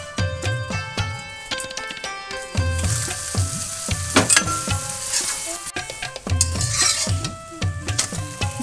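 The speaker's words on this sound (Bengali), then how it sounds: "তেলটা গরম হয়ে গেছে। আমার তেলটা গরম হয়ে গেছে। এবার আমি রুটিটা দিয়ে দেব।" A rolled flatbread fries in hot oil in a pan, a steady sizzle with bursts of spattering and occasional clinks of a utensil against the pan, close and fairly loud, with no talk.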